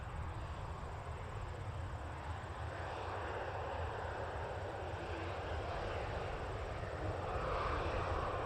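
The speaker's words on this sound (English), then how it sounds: "that's a 737-800 with a swoop livery" A Swoop Boeing 737-800 airliner at Toronto Pearson Airport produces a steady broadband engine roar, constant and fairly distant, swelling slightly toward the end with no voices.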